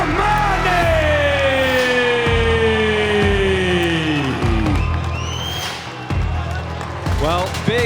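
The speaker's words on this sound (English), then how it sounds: "big cheer for the local man, Pouya Rahmani" Arena crowd cheers and yells loudly and steadily for local UAE fighter Pouya Rahmani at a Karate Combat Pit event, a dense roar with a sweeping tone and announcer talk woven through it.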